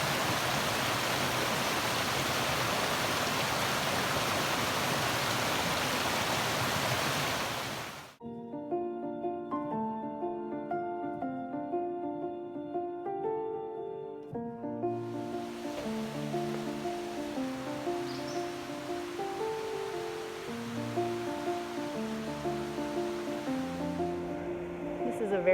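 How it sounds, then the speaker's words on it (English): Steady broadband rushing water from a babbling brook beside a creek trail in Shenandoah National Park fills the first eight seconds, loud and close, before giving way to music; the water noise then returns fainter beneath the music. "Love listening to the sound of the babbling brook."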